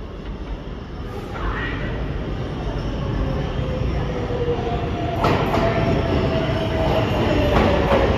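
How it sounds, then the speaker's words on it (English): A New York IRT subway train (R62A or R142/A) rumbles loudly through Brooklyn Bridge–City Hall station with squealing wheels and metallic screeches, a broad continuous roar throughout. "let the customers off the train first"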